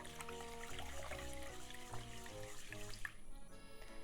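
Rice being rinsed in a bowl of water for Japanese beef BBQ rice sandwiches, with steady sloshing and trickling water heard close up and alone, mixed with soft clinks of the grains and bowl.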